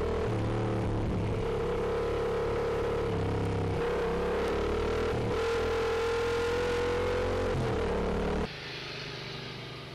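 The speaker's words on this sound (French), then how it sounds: "il peut aussi monter très très vite dans les tours, avec une mélodie forcément plutôt sympa" A Yamaha MT-07 motorcycle engine revs hard and climbs quickly through the rev range, its strong harmonic drone rising and dipping with each throttle blip. It stays loud and close, then drops abruptly to a quieter idle-like hum near the end.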